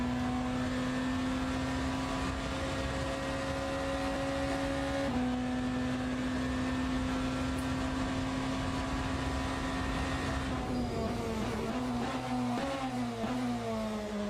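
A BMW hypercar engine in the Le Mans Ultimate racing game drones at a steady high pitch, then drops sharply as the car brakes and downshifts, followed by a run of quick shifts near the end.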